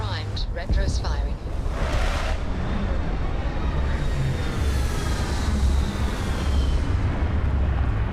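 Spaceship retro thrusters fire during a landing in Starfield: a steady, loud, deep roar with a rushing hiss on top and a few sharp mechanical clanks near the start.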